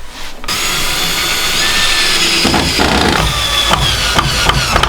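A power driver screwing into a wooden ceiling beam during a laundry-room renovation, a loud close continuous whine with rising pitch and a few knocks as the screw bites, no talk.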